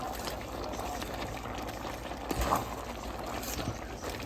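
Pigstail stew peas with vegetables bubble and churn in a pot, making a continuous dense wet simmering hiss with a slight stir or clunk midway, steady and fairly close.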